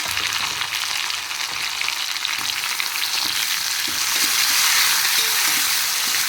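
Tomatoes frying in a pan with onion and garlic-ginger paste, a steady close sizzle with occasional stirring scrapes, swelling slightly louder toward the end.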